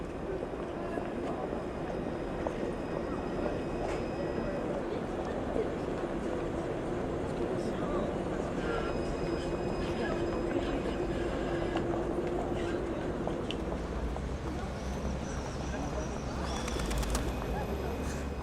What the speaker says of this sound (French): cette rame Citadis, construite par Alstom, se hisse tout en douceur